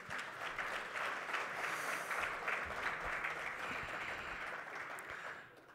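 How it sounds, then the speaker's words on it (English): Steady applause from a conference audience at a national green hydrogen event in Namibia, a dense, even wash of clapping holding for several seconds at moderate distance with no voices over it. "Please give him another round of applause."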